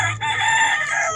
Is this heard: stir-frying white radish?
no